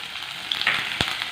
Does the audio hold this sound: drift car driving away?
no